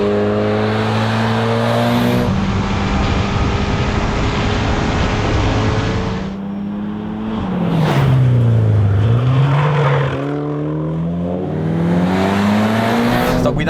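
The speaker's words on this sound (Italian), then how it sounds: "Sto guidando un esemplare completamente originale, se non per lo scarico e per un adeguamento dell'elettronica." A Mitsubishi Lancer Evolution 6 Tommi Makinen Edition RS, original apart from its exhaust and electronics, drives on a winding road. Its engine sounds close and loud throughout, revving up and down in repeated rising and falling sweeps.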